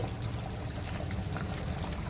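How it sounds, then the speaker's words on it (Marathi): Prawns go into a simmering Goan coconut curry masala, giving a continuous wet pouring and bubbling wash of sound, close and steady with no talk. "आता मी कोळंबी सोडते"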